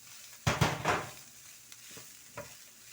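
Chicken roll filling with spring onion, coriander and cabbage being sautéd, opening with a burst of loud stirring scrapes and sizzle, then quieter, sparser spatula strokes over a low background fry, no talking.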